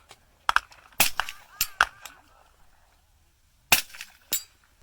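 A suppressed 300 Blackout rifle firing 225 grain rounds in cold air gives several sharp cracks, a few clustered early and two more later, with faint echoes between them.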